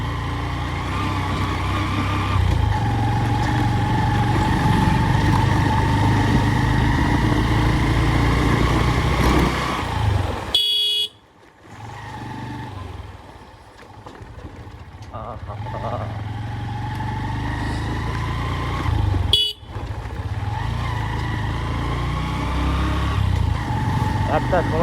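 A motorbike rides along a road on a winter afternoon, its engine droning steadily with wind rush, briefly dropping away mid-ride before resuming, while voices talk over it.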